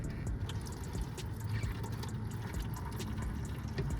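Engine oil draining from a Chrysler 300 during an oil change, a continuous close liquid trickle and patter into a pan, steady and unbroken.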